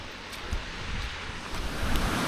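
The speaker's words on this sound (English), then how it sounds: "It is a nice looking waterfall to be fair though." A waterfall in the Scottish Highlands, swollen after heavy rain, roars as a steady broadband rush of water with a slight surge, heard alone and fairly near, mixed with some wind.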